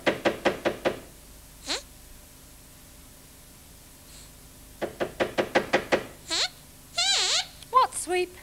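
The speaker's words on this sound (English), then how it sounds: "Sweep, it's someone knocking on a door." Knocking on a door in a children's puppet show: two bursts of rapid, crisp knocks, each about six raps, separated by quiet, with squeaky character voices chattering afterwards.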